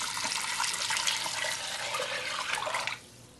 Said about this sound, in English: And then we're going to add 6 cups of vegetable broth.